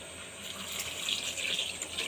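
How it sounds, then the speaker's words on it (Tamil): Water pouring into a cooking pot of Chettinad sambar over sautéed vegetables, onion and sambar powder, a steady soft gush lasting a couple of seconds, fairly quiet and close. "தண்ணியை ஊற்றி"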